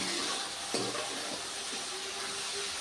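Chopped onions stirred in a pan of hot oil for black chickpea curry, giving a steady crackling sizzle with a few clinks and scrapes of the spoon against the pan.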